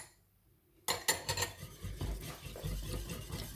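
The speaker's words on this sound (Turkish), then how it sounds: "Ve karıştırıyoruz" Tuna pasta salad stirred in a bowl with a utensil, a sudden start of repeated scraping and clinking against the dish, close and fairly loud, with no one talking.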